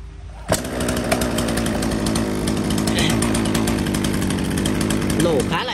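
A used Japanese-market chainsaw with a 40 cm bar runs steadily at idle to mid revs, a loud continuous buzzing drone after a sharp start transient, close to the listener.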